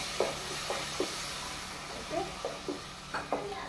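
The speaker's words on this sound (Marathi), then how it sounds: "गरम उदकूच घालपाचें तो मसालो आमचो फ्राय जावपाक जाय" Masala for a Goan mixed vegetable korma curry fries in a pan just after hot water is added, a quiet steady hiss with scattered soft bubbling pops and light stirring scrapes.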